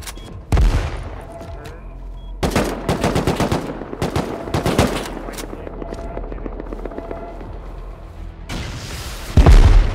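Rocket blast and gunfire in Rust, a sharp opening boom followed by rapid bursts of automatic fire, another heavy explosion near the end, loud and close with talk mixed in.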